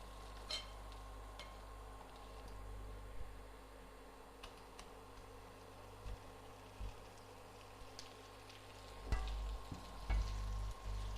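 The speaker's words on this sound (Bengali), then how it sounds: "এবার চিকেন অ্যাড করে আমি 2 মিনিট কষিয়ে নেব।" Chicken pieces frying with capsicum in a pan, a low steady sizzle with occasional sharper clicks and scraping stirs, fairly quiet and close, with no talking.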